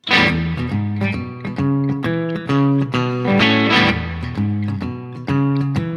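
Electric guitar chord lick, a series of plucked chords and short notes in a loose rhythm, close and moderately loud, no talking.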